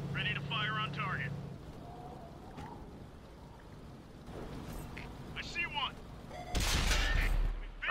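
Tank guns firing in a video game featuring the T20 tank, with game voice callouts and faint mechanical rumble, then a loud close cannon blast and heavy rumble near the end.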